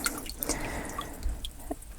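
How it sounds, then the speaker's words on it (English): Vinegar water draining from a water heater pump, heard as irregular drips and splashes into water, close and moderately loud. "going to let my pump drain as much of that vinegary water out as possible"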